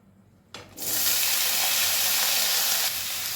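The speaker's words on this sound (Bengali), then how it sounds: "এখন আমি এর মধ্যে দিয়ে দেবো কেটে রাখা চাল কুমড়ো" Cut ash gourd drops into hot oil over a high gas flame alongside dried red chillies and bay leaves, setting off a sudden loud, steady hiss of sizzling that holds for several seconds.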